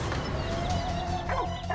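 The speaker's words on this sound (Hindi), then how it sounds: "दूर रहिए, ये कुत्ता बहुत एग्रेसिव है।" Aggressive dog barking in a Hindi TV serial scene, a few sharp close barks and yips over a dense, loud background with no talk.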